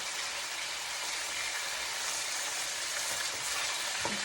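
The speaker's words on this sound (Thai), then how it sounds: "ตอนนี้เอาปลาลงก่อนค่ะ ปลานี่ทอดไม่นานมันก็สุกแล้วค่ะ" Fish frying in a pan, a steady loud hiss of sizzling oil throughout, with faint clinks near the end and no voices.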